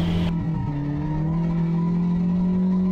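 Drift car on track with left-foot braking, tires skidding and engine droning steadily through a corner, loud and continuous with no voices.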